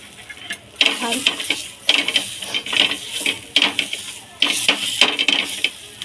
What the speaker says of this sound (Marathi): आता जिरंसुद्धा आपण असे याच्यात मिक्स करून घ्यायचे